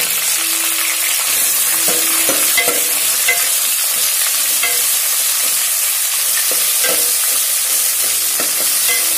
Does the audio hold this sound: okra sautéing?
yes